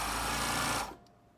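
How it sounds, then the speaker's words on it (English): A sewing machine running a short back tack on trousers whirs loudly and evenly up close, then stops abruptly, leaving a faint low hum. "Start off by sewing a little back tack"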